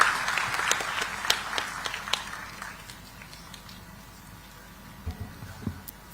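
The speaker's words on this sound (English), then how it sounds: "Let's welcome Mr. Gurnani with a thunderous round of applause," At a digital technology summit, an audience welcoming a speaker claps in a scattered, moderate burst that fades within a few seconds, leaving a quiet hall with a few thumps afterward.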